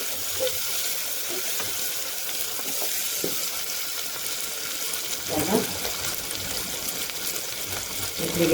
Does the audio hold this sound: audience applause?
no